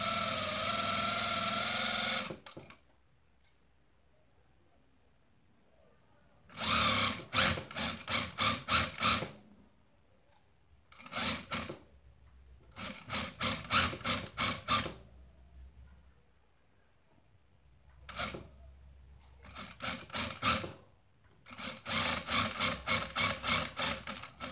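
An overlocker sews the set-in sleeve seam of a onesie in repeated short bursts of rapid mechanical whirring and stitching, separated by quiet pauses, close by.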